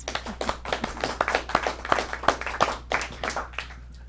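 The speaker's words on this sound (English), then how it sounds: "I think we just deserve to give you a round of applause first, for sure." Scattered hand clapping from a small council meeting audience, a few distinct claps ringing out over a steady low hum, moderately near.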